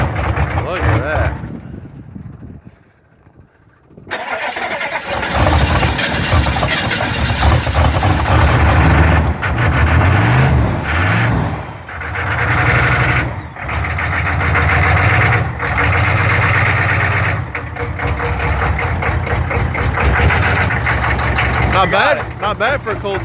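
A 6.2 diesel engine rumbles loudly after a cold start, with a heavy low clattering idle that swells and settles, following a brief quieter moment near the start, voices talking over it.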